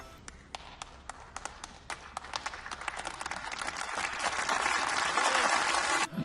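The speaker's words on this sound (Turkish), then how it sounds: "Bir alkış alayım ben." A small group applauds a streamer who has just switched maps in a CS 1.6 Deathrun session. It starts with a few scattered claps and builds into steady, dense clapping that swells louder toward the end, with no talking.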